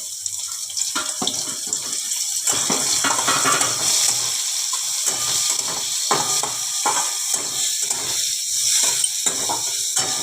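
Chopped onions and green chillies frying in white oil for a chickpea dish: a bright, constant sizzle with crackling bursts and occasional stirring scrapes, close up, with no talking.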